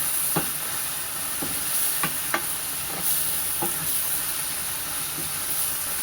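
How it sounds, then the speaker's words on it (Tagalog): Hot fat sizzles steadily in a pan as ingredients are sautéed, a loud continuous hiss broken by small pops and clinks of stirring, with no talking. "Ginigisa pa lang natin yun"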